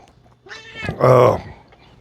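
A cat meows loudly and close up indoors, a drawn-out rising and falling cry preceded by a shorter softer chirp, heard clearly on its own.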